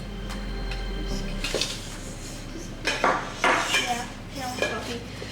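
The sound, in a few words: whisking cupcake batter by hand in a bowl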